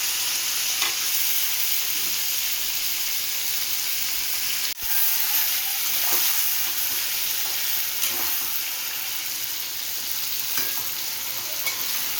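Eggplant pieces fry in oil over a high flame for gota baigan masala, a dense, constant hiss and sizzle with occasional stirring scrapes and one brief knock midway.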